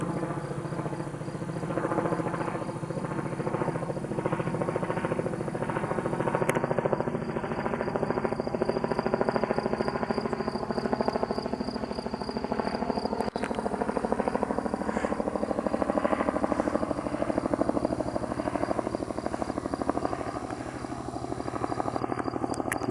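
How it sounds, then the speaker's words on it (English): Helicopter flying over the Alpine meadow used for the Sound of Music opening scene, a steady rotor drone with slowly shifting pitch, distant and continuous throughout, with faint outdoor ambience and no talk. "It's a helicopter, look."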